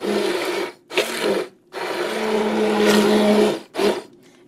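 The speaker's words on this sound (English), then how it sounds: "Now, we can hit them with the immersion blender." Immersion blender pureeing home-canned tomatoes in a pot, a loud whirring motor in several bursts of varying length with short silent pauses between, close and alone.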